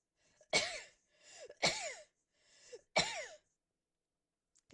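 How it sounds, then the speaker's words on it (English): Three sharp, close sneezes from a person indoors during a makeup review, each a loud burst with a rising-falling voiced tail, spaced about a second apart with quiet after. "I have to sneeze and I don't know if I can cut this out."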